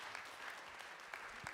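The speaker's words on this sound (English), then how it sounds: "Let's give them another round of applause as they exit." A brief burst of audience applause as staff leave the stage at a Sunday live-streamed gathering: a steady wash of many clapping hands, somewhat distant and roomy.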